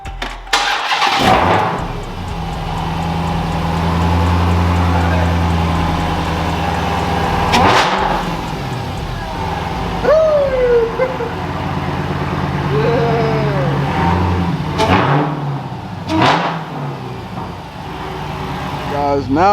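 A Dodge Hellcat fitted with a $500 modification fires up and revs up close and loud, the deep engine note swelling and falling through several blips while people talk over it.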